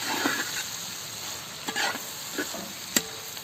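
Quiet frying sizzle with a few light scrapes and clicks of a spoon as slit green chilies are stirred into sautéed onions for a Kerala-style chicken curry.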